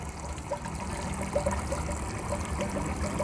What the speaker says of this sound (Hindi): और यहाँ से पानी शुरू हो गया।